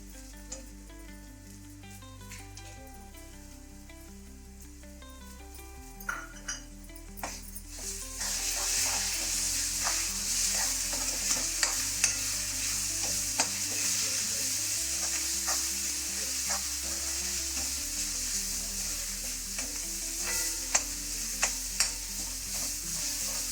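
Ambadi greens drop into a pan of sautéed onion. A quiet sizzle swells into loud, steady frying, and a spoon repeatedly scrapes and clinks against the pan as the greens are stirred.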